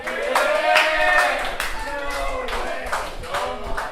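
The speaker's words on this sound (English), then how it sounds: "give it up for your last comic for the evening, Mr. BarryWhite Hanson" An audience applauds and cheers as the last stand-up comic of the evening is introduced at a comedy show. The claps are dense and loud, with raised voices and whoops mixed in throughout.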